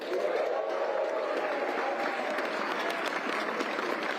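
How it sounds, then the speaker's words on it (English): A crowd gathered in a mountain village claps at the start of a World Cup mountain skyrace, a continuous wash of applause with a voice or tone faintly threaded underneath. "so let's clap for that"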